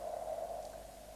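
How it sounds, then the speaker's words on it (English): A steady hiss of radio static from a receiver tuned to Mariner 9's channel with an antenna pointed toward Mars, a faint humming tone running underneath, unchanging and moderately quiet. "point an antenna towards Mars and tune in on Mariner 9's channel, we would hear something like this, called noise"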